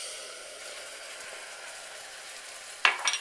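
Cream poured into hot amber caramel just off the heat bursts into a sharp, loud sizzle after a soft, steady hiss, then crackles in a few bubbling spurts.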